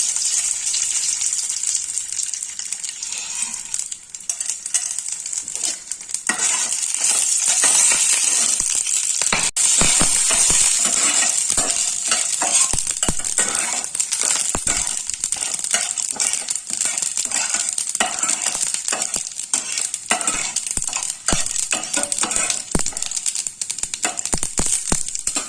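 Chana dal, two dried chilies and black mustard seeds frying in tempering oil for sambar: a continuous crackling sizzle with scattered sharp pops and small clinks, close and fairly loud, with no talking.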